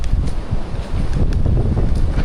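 Strong wind roars and buffets the microphone in continuous heavy gusts, with a low rumbling rush throughout.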